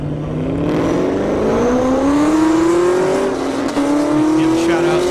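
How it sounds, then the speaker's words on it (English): Camaro SS and Dodge Hellcat launching off the starting line at an airport drag race, engines revving hard with rising pitch sweeps as they pull away, loud and close. "Seth Moore, Camaro SS, Jason Burrow, Hellcat. Right there on the starting line."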